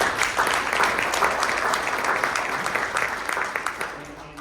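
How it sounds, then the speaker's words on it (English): Audience at a legislative wrap-up luncheon gives a dense burst of applause lasting several seconds, fairly loud and even, fading slightly toward the end. "we ought to give a hand around the applause"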